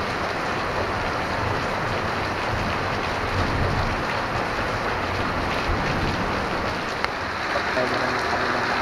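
Heavy rain pours steadily in the Philippines, a dense, constant hiss of water on surfaces that stays loud and unbroken throughout.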